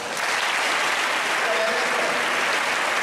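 A hall full of people clapping steadily at an Independence Day celebration, a continuous even wash of applause with a faint voice briefly audible within it.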